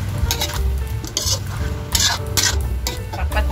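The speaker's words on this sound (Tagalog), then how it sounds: "At ilagay na rin natin yung ating pork cubes." Pork cubes dropped into a hot pot alongside taro, crackling and sizzling while a utensil scrapes and clatters in repeated stirring bursts, close and fairly loud.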